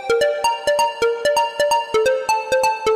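A mobile phone ringtone plays a bright, repeating melodic pattern of sharp plucked notes in quick, even rhythm. It is loud, close and continuous, with no talk.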